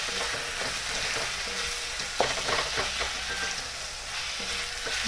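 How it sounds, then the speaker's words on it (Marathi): Coriander being stirred into eggplant bharit frying in a pan, a continuous sizzle with scraping spoon strokes and a few sharper clinks. "आता त्यात थोडी कोथिंबीर घालते."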